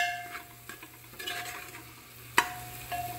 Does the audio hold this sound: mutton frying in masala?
yes